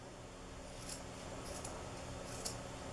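Scissors snip the ends of yarn on a hand-knitted baby owl hat, a few quiet close crisp clicks spaced over a few seconds against a soft background hiss.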